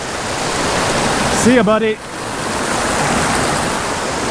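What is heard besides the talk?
small creek stream flowing water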